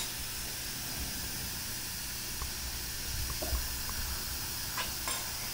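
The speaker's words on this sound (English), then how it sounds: "That little extra burst of steam was the airlock falling down." An Instant Pot finishing a pressure release while cooking shredded taco meat: a steady hiss of escaping steam with a few faint clicks, then a short extra burst near the end as the float valve drops.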